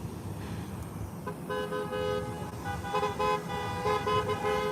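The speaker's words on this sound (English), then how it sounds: "People honking, waving, honking and waving." Car horns from passing vehicles toot several times in short bursts over a steady roar of road traffic, heard at moderate distance outdoors near a detention center.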